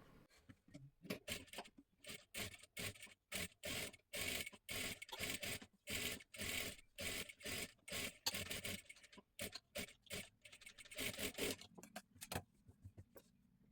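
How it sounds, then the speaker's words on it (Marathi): A sewing machine stitches along the edge of a matka blouse neckline in quick, rhythmic stop-start bursts of clattering needle runs, close and steady, with brief pauses between runs. "आता इथे गळ्याला एकदम कडेकडेला आपल्याला शिलाई मारून घ्यायची आहे पूर्ण गळ्याला"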